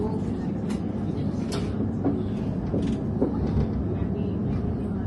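Steady low rumble of a London Overground Mildmay line Class 710 commuter train running to Stratford, with faint clicks and rattles from the carriage throughout.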